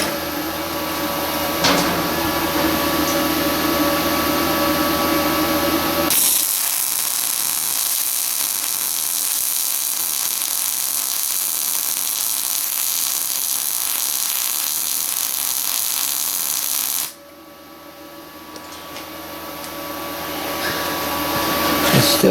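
A Yeswelder 205DS welding aluminum, a steady loud electric arc hiss that holds evenly for about eleven seconds between stretches of machine hum and fan noise.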